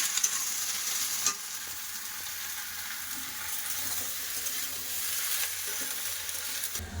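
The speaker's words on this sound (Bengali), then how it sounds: "এবার কেটে রাখা সব সবজি একসাথে দিয়ে দেবো সম্রার সাথে ভালো করে কষে দেবো" Chopped mixed vegetables and onion sauté in a pan for a mixed vegetable dish, giving a steady, close, continuous sizzle with faint stirring scrapes throughout and no voices.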